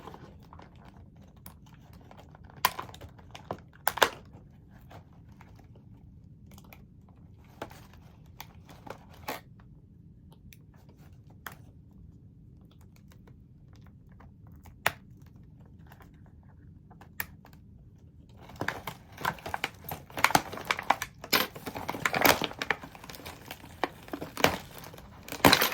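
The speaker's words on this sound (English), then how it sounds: "I'm gonna cut the doll out" Scissors snipping and plastic packaging crinkling as an LOL Surprise OMG doll is cut free, with sparse sharp cuts at first, then a denser burst of rustling and crackling near the end, close and fairly quiet.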